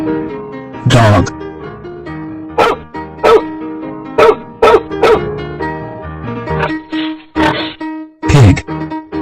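A cartoon dog lets out a handful of sharp, loud barks spaced irregularly over a bouncy music bed. The barks are close and punchy, with no talk.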